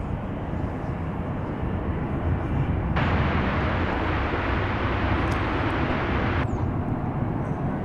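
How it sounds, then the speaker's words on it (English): Martinair Cessna 208B Grand Caravan, a 2002 single-turboprop, at DFW Airport: a steady, loud engine roar throughout that grows broader and brighter midway, then eases back near the end. "This, I believe, is a Martinair Cessna 208B Grand Caravan from the year 2002."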